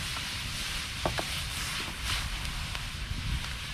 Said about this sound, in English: Listen to that thing sizzling.